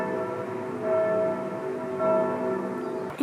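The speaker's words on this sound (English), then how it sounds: "Bells from here and bells from there." Church bells ringing across Florence, steady sustained tones sounding at a distance over the outdoor city air, with two brighter strikes standing out briefly and no voices.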